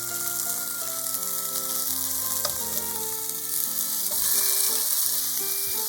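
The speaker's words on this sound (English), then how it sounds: "Turn on the heat and put oil in a frying pan. Arrange the chicken on the frying pan." Chicken yakitori frying in oil in a frying pan, a steady close sizzle with a continuous crackle throughout and no voices.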